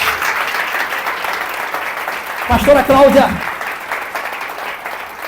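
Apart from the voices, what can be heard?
congregation applauding in church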